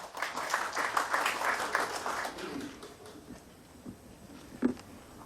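An audience at a Korean book launch event claps in welcome. A moderate burst of applause thins out quickly, leaving a few scattered claps in a quiet room.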